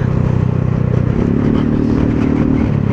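A motorcycle rides a bumpy, pothole-ridden Star Toll road toward Batangas City, its steady engine drone close and loud with a faint clatter and rattle running through it.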